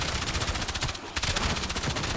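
Rapid, loud gunfire in the video game Black Ops 7 Zombies as a player shoots at zombies, a dense stream of close shots with a brief pause in the middle before firing resumes.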